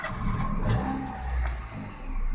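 A car engine cranks and fires up on a 3-cell LiPo jump starter that has replaced the lead-acid battery, turning over briefly and then catching into a loud running idle close by.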